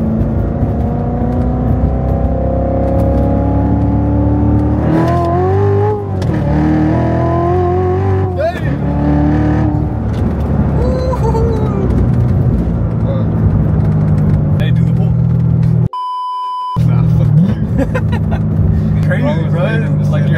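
A Chevrolet Corvette C7 Z06 pulls hard from inside the cabin, its engine note rising through repeated surges with shifts, loud and steady under passengers' chatter.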